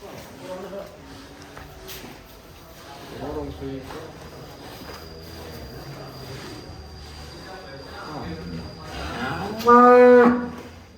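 A large white cow of the Brantas type lets out a loud, drawn-out moo near the end, heard against steady background noise and murmur from a farm setting.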